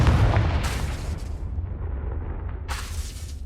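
A Confringo spell explosion in the Hogwarts Legacy video game goes off as a loud, deep boom at the start, then rumbles and crackles as it fades over a few seconds.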